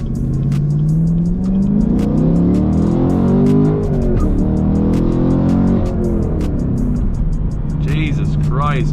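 A 2023 Chevrolet Camaro LT1 with a six-speed manual accelerates hard, its engine note climbing loud and close through the gears, with a brief chirp of tires near the end.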